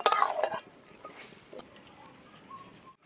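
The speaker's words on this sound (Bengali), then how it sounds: "ভালো করে এবার মশলার সাথে সব কিছু দিয়ে কষিয়ে নেব।" Chicken sautéed with spices in a pan, a brief burst of stirring and clattering at the start, then a faint sizzle with an occasional scrape, close, with no talking.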